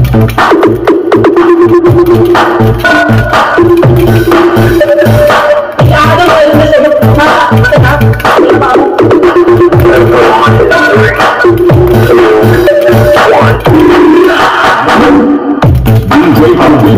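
Music played through a Tosunra PD18K carbon-cone triple-magnet speaker for a bass test: loud, punchy, continuous dance track with heavy rhythmic low end and a driving beat, playing alone at full volume.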